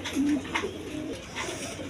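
Several pigeons coo in low, soft, rolling phrases that overlap into a steady murmur, close by, amid the birds being offered for sale, including racer pairs.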